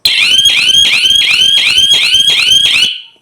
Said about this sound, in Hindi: इसके आगे कोई भी आएगा तो ये साउंड करना, मतलब कि अलार्म बजेगा, बहुत तेज़ बजेगा।